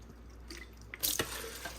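Natural spring water poured into a container of soaked almonds for homemade almond milk, starting with faint drips and then a brief louder splash and gurgle before settling into light trickling.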